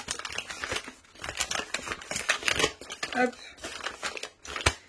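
A crumpled paper tracking sheet from an AliExpress parcel crinkles and rustles in repeated bursts as it is handled, under a person speaking French.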